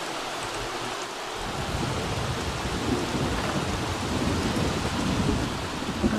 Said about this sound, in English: it sounds like it's going to thunderstorm here